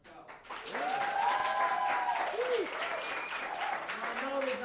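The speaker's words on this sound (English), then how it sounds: "Let's just get like a big round of applause." Audience applause at an adult music school showcase, a steady wash of clapping sustained for several seconds, with voices and some tonal sounds mixed in over it.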